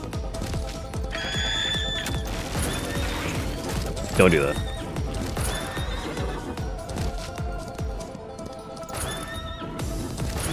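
In the video game Far Far West, a horse whinnies loudly and its hooves clip-clop steadily, with a brief crash partway through, while someone talks over the game sounds.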